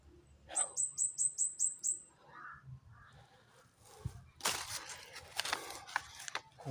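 A crow calling outdoors as it flies back and forth: a quick run of six or seven sharp, evenly spaced caws, followed by quieter rustling and a burst of broadband noise.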